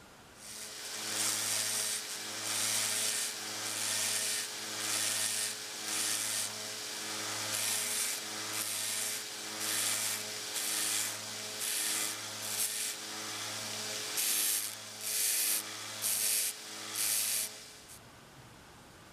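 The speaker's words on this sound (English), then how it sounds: "I think I'm gonna try to reshape it with my 1x30 sander." A 1x30 belt sander reshapes the butt of a wooden Stanley Hurwood No. 20 screwdriver handle, a steady motor whine under rhythmic hissing, rasping passes of wood against the belt that pulse on and off, then stop.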